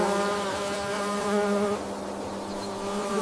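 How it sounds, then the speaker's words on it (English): A bee buzzes close by among flowers, a steady droning hum that wavers slightly in pitch and fades a little partway through. "Pollen grains cling to the bee's legs, a golden cargo moved from bloom to bloom."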